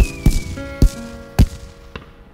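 Cartoon fireworks in a Peppa Pig episode burst in four sharp, loud bangs spaced about half a second apart, ringing tones sustaining between the blasts.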